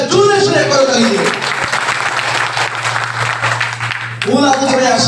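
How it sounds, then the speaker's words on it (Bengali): Loud, dense applause from a crowd filling a hall, sustained for several seconds, with someone speaking over it at the start and again as the clapping fades. "প্রত্যেকের জন্য একটা জোরে সোরে করতালি দিন।"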